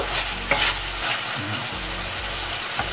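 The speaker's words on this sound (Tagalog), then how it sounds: "Haluin lang natin ng haluin." Meat sizzles loudly in a frying pan as a spoon stirs it, a close, steady crackle with a few sharp scrapes and clinks against the pan, and no one speaking.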